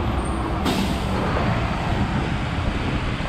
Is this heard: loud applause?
no